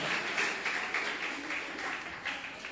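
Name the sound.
congregation applause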